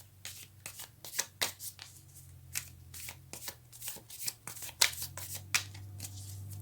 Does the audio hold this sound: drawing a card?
yes